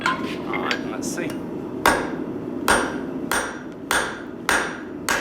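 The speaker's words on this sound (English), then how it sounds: "So you might have to do some pushing hammer blows or pulling hammer blows." Sharp ringing hammer blows forming a hot rivet, about eight loud strikes at a steady, slightly irregular pace, close by with nothing else heard.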